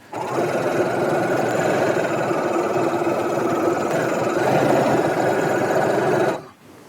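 A sewing machine runs steadily for several seconds stitching ribbon onto fabric, a close, even mechanical whir that stops abruptly at the end.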